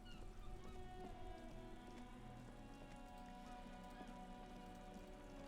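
Rain falling in the video game Disco Elysium, a faint steady patter of drops on surfaces under a quiet tonal music bed, with no talking.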